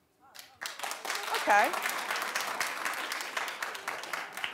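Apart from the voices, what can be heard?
studio audience clapping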